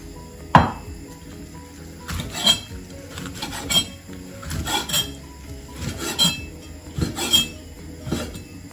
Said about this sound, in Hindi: छोटे छोटे पीस करके इसको हम काट लेते हैं।